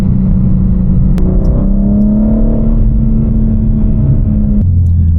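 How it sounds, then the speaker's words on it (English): A BMW M4's engine runs with a steady, loud low hum that rises in pitch partway through, heard from inside the car during a late-night drive and then dropping back to a lower idle-like drone. "Let's hear the car real quick."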